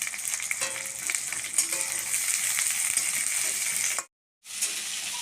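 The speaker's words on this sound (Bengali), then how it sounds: "তাই মা একটু খুন্তি নাড়ছে রান্না করছে" Taro greens frying with prawns and onion in a home kitchen pan, a steady close sizzle with occasional scrape of a spatula stirring, cutting out briefly near the end before resuming.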